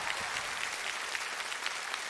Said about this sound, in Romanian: aplauze pentru Irina Fodor!